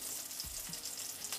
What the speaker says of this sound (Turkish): Burada daha az yağ var. Kızarsın.